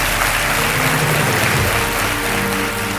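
Applause from an audience welcoming a guest at a live event, steady and dense throughout with no talk over it.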